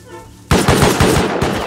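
Rapid automatic gunfire in the survival game Rust, fired at a turret: quiet ambience, then a loud sustained burst of close shots in steady rhythm lasting over a second.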